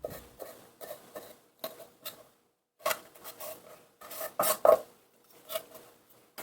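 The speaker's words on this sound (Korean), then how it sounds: "다리는 가닥가닥 자른 후에 4cm 길이로 썰어서 손질합니다" Squid legs being chopped into 4 cm pieces with a kitchen knife, giving a series of sharp, irregular taps and thuds against a cutting board, close and clear with short silences between groups of cuts.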